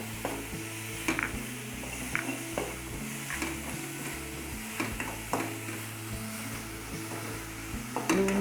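Onions fry in a pan with spices and chili pieces for a savory pastry filling, a steady close sizzle broken by occasional scrapes and clinks of stirring, under soft background music.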